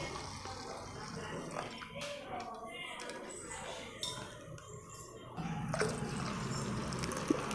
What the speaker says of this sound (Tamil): நான் ஒரு கப்பு ஊற்றுறேன்.